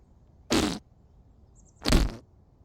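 Two short, loud fart sound effects sound in isolation, separated by about a second of near silence, with a faint chirp between them.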